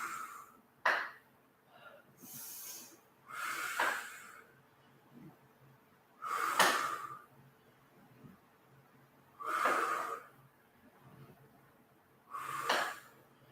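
Forceful breathy exhales during an upper body and core weight workout, five or six sharp puffs spaced a few seconds apart, close and fairly loud with quieter breathing between.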